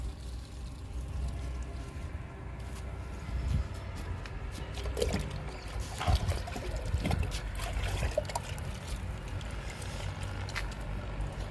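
Liquid fertilizer trickles and splashes onto a flowering potted plant in a garden, a soft, uneven dribble close by with scattered small drips over low background noise.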